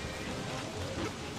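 Steady rain falls in the survival game Don't Starve: Reign of Giants, a soft, even broadband hiss of raindrops on the ground that holds at constant loudness with no voices.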